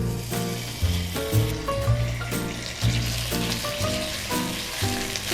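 Thick-cut bacon sizzles and fries in a pan, a steady close crackle with bursts of spattering and a few clinks of a utensil against the pan, and no talking.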